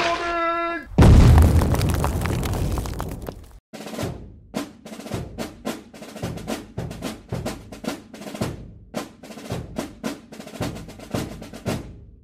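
A heavy cinematic explosion effect strikes an anti-tank crew in a WWII tabletop battle, a sudden deep boom with a long rolling tail, followed by a rapid string of sharp, punchy bursts like battle fire.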